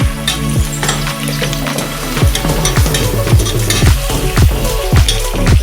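Chopped tomato cooking in an oil-filled pan for egg biryani, a loud steady sizzle with repeated scraping and stirring knocks from a spoon against the pan, no voices.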